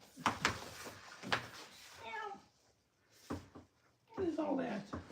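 An indoor cat that has been playing with electrical wire gives a few drawn-out meows, one in the middle and a longer one at the end, between a person's nearby remarks.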